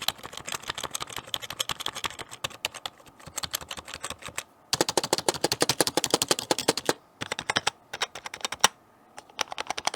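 Fast bursts of typing on a cheap RGB membrane keyboard from TEMU, a dense clatter of soft key presses with a few brief pauses, close and alone without speech.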